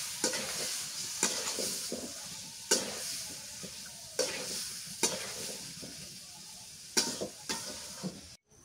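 Cauliflower bhaji with taki fish fries in a pan over low heat, giving a soft, steady sizzle broken by repeated scraping stirs of a utensil every second or so, close and fairly quiet with no talking.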